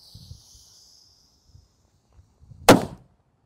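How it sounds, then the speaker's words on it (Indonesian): Petir firecracker going off outdoors: after quiet shuffling and a faint high hiss, one sharp, loud bang rings out and decays quickly. "ada mercon petir, kita nyalakan. Ini suaranya kencang sekali"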